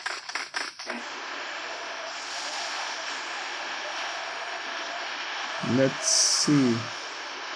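A plane drones steadily through the flight in PUBG Mobile, a constant engine hum under brief talk at the start and a couple of short electronic game tones near the end.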